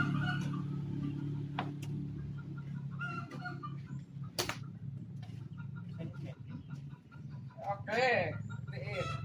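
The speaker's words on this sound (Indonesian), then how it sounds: "Ayam." Chickens cluck repeatedly nearby, with a rooster-like call rising near the end, over a steady low background rumble of voices.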